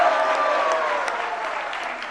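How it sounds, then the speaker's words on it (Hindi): Applause from the audience at a Jain religious question-and-answer gathering with Sudha Sagar Ji Maharaj in Agra, a dense wash of clapping that gradually softens over about two seconds. "तालियों के साथ"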